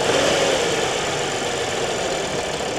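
An Audi A7 with an EA837 engine runs rough, a steady mid-pitched engine drone with an uneven knocking throb like a tractor, heard up close with no talking.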